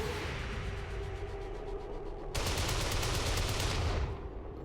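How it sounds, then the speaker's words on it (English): Rapid gunfire in a squad-based tactical video game, a dense continuous rattle of shots that grows louder and brighter midway, then eases off near the end, with no voices. "the next few turns are going to be a lot of shooting."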